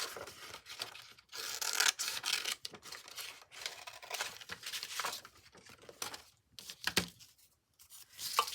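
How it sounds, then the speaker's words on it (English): Paper being cut loosely around a shape during a friendship-bracelet craft, a steady run of close, crisp snipping and crinkling rustles with brief pauses, no talking. "Okay, so I'm just going to loosely cut around here."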